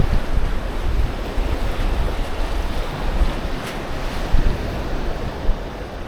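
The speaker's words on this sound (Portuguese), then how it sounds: "Ventando." Wind blows across a beach in Florianópolis on a cloudy morning, mixing with the steady wash of surf in a continuous close roar with a few brief gusty bumps and no talking.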